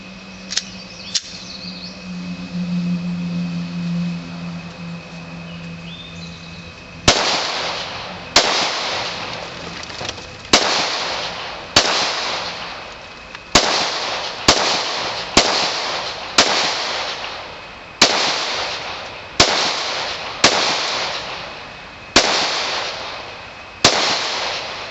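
A Glock Model 17 semi-automatic 9mm pistol fires about a dozen sharp, loud shots outdoors at uneven intervals roughly a second apart, each with a short decaying echo, after a stretch of quiet background.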